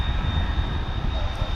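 A McDonnell Douglas MD-11 jet airliner roars steadily at an airport runway, a broad, loud engine rumble with a thin high tone running through it.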